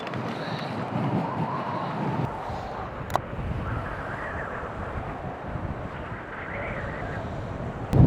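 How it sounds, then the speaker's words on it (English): Morning wind gusts outdoors buffet the microphone with a low, rough rumble and hiss that swells and eases, fairly loud and continuous, with no one speaking. "It is windy this morning."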